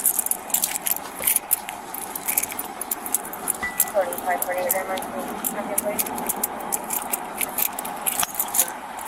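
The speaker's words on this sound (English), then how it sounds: "Keys." Keys jangle repeatedly during a police search of a man at an indecent exposure arrest, bright metallic clinks scattered across the scene under ongoing talk and radio chatter.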